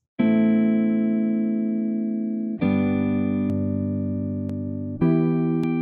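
Dark-toned electric guitar run through an American Tweed amp simulator plug-in, three sustained ringing chords struck a couple of seconds apart, each decaying slowly, with faint clicks between.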